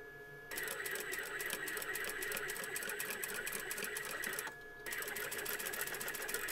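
A sewing machine stitching patchwork fabric, a steady close mechanical whir with rapid needle chatter that stops briefly before starting again, no talking.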